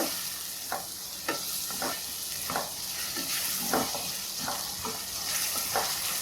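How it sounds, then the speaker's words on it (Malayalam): Schezwan vegetable fried rice mixture being stirred in a pan, a steady sizzle with repeated scraping strokes of the spoon at a regular rhythm, close and clear with no talking. "നല്ലപോലെ ഒന്ന് ഇളക്കിയിട്ട്"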